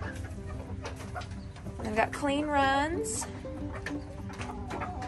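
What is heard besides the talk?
chickens clucking in a coop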